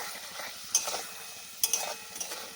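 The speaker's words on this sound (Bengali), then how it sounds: "এবার খুব ভালো করে মশলা কষিয়ে নেব" Spices with salt and turmeric being sautéed in a pan for a Bengali potol dhokar dalna, a quiet sizzle with a few sharp spatula scrapes at intervals.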